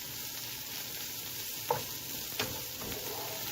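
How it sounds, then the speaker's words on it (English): Garlic sizzles with softened vegetables in a pot for mushroom barley soup, a steady close frying hiss with a couple of light stirring knocks. "Our vegetables are soft, so we're going to put in the garlic."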